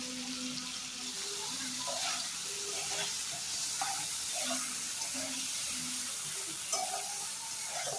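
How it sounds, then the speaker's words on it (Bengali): Marinated jackfruit frying in hot oil in a pan, a steady close sizzle with intermittent scraping stir clicks and a faint voice in the background. "এবার আমি দিয়ে দেবো ম্যারিনেট করা এঁচোড়।"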